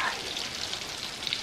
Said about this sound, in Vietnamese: Chiên cái này thì mọi người chiên cái lửa riu riu thôi nha.